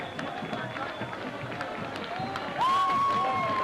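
Crowd at a 2006 Steubenville Big Red versus Dover Tornadoes high school regional championship football game, a steady roar of cheering that swells near the end, with a sharp whistle and an announcer talking over it.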